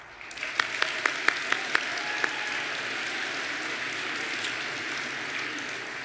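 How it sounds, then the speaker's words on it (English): Applause from a student audience at a state leadership conference, starting with a few distinct claps and swelling into a steady crowd wash that fills the rest of the clip. "you should give yourselves a round of applause"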